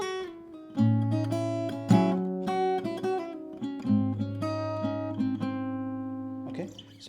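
The next section of a song intro rings out on fingerstyle acoustic guitar, a string of plucked melody notes over deep sustained bass strings, close and even, with a short bit of talk at the very end.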